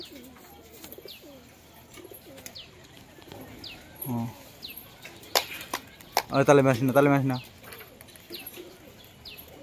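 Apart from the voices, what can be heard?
pigeons cooing and flapping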